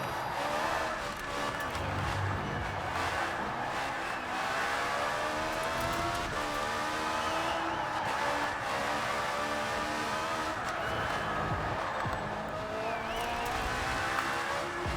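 A race car laps a circuit in Forza Horizon 4, its engine droning loud and steady throughout with rising and falling revs through gear changes and corners, no talk.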